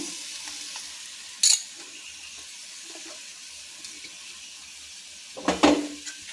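Cluster beans sizzling softly in a pan, with a sharp scrape of stirring early on and a louder burst of stirring and clatter near the end.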